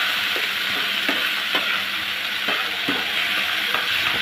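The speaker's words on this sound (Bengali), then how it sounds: "দিয়ে দেবো ধুয়ে রাখা সিমগুলো, ভালো করে মশলার সাথে মিশিয়ে নেব।" Flat beans are stir-fried with spice paste in a pan, giving a constant sizzle with regular spatula knocks and scrapes as they are tossed.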